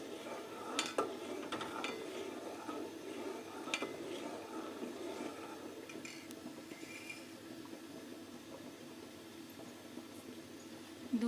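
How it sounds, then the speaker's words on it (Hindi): A spoon stirs boiling milk in a pot at home, with scattered metallic scrapes and clinks against the pot over a quiet bubbling background, sparse and close. "दूध हमारा उबल रहा है तो इसको हम साथ साथ हिलाएंगे।"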